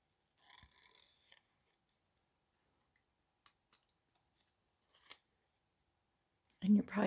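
A few short, crisp snips of large scissors through paper, spaced apart in near silence, ending with a brief loud thump.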